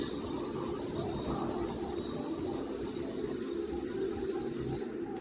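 Water hits a hot pan of potatoes and pumpkin, a steady close hissing sizzle that runs evenly and cuts off sharply at the end.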